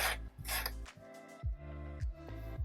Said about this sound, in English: Now we're back at the sewing machine.